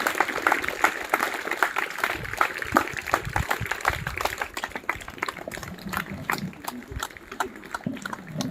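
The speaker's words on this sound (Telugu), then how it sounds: "చప్పట్లతో అందరూ కూడా." A crowd at a school Independence Day celebration at Z.P. High School, Gabbada, claps to welcome the headmaster to the stage. The dense, rapid claps continue steadily while a voice speaks over them.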